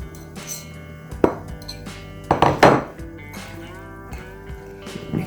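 Butter, melted butter, sugar and mashed bananas being mixed in a bowl for banana bread, with intermittent scraping and clinking of a utensil against the bowl, close and fairly loud.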